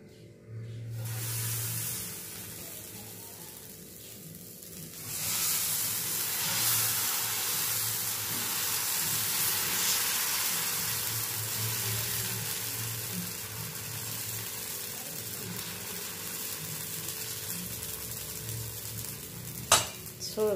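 Dal dosa batter mixed with carrots sizzles steadily on a hot pan, a continuous moderately loud frying hiss that runs alone for about twenty seconds, with a faint clink near the end.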